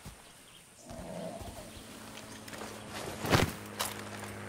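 Horse in Far Cry 6 moving with soft hoof footsteps, growing a bit louder midway, with a couple of sharper thuds near the end; moderate distance, game ambience underneath.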